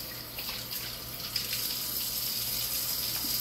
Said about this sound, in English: Let me rinse the meat real quick and then I'll run the dish water.